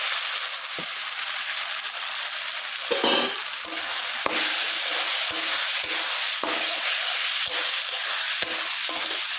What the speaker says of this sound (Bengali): পনিরটা দিয়ে দেবো, মশলাটা ভাজা হয়ে গেছে।